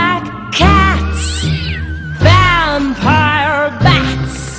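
Several loud, close cat meows with a wailing, caterwaul-like quality, set over a Halloween song's backing music.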